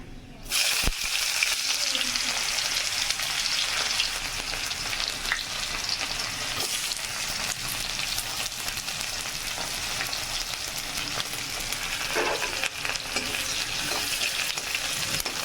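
Sliced onions sizzle steadily in hot oil with panch phoron five-spice, the base for a cauliflower, potato and fish curry. A continuous loud frying hiss runs throughout, with occasional stirring scrapes and no talking.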